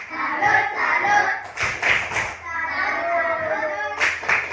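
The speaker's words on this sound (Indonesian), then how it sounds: "kita tepuk salut dulu untuk kelompok kucing" Children in a Year 4 classroom perform the rhythmic 'tepuk salut' clapping chant, sharp claps in patterned bursts mixed with young voices chanting along, lively and close.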